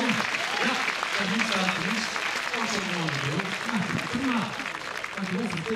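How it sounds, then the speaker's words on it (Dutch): Crowd applause at a 2016 fierljeppen (canal pole-vaulting) competition honours Marit van der Wal in the women's event; steady clapping runs throughout beneath continuous talking. "Ja, applaus voor Marit van der Wal."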